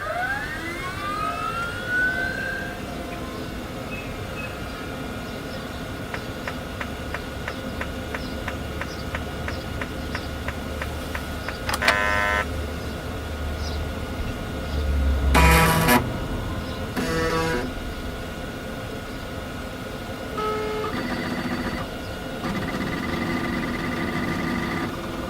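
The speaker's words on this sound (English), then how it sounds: "the Seagate ST157A got another chance. Thankfully, that grinding noise eventually went away by itself, and we ended up with a very awesome sounding machine" A Seagate ST157A hard drive spins up and runs inside a 1990s 286 computer, a rising whine into a steady hum with rapid seek ticks, clicks and short bursts of grinding chatter, close and continuous.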